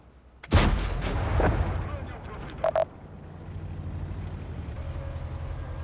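Tank gun fire in a tank combat video game: one heavy booming shot with a long rumbling tail, followed by a couple of short sharp bursts and low engine rumble underneath.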